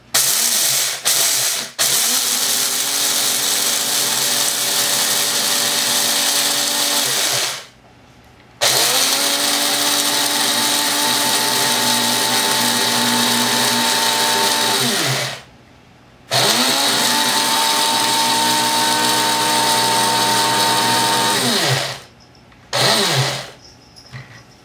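A small electric coffee grinder grinding rice whirs loudly in three long bursts separated by short pauses, its motor pitch rising as it spins up each time.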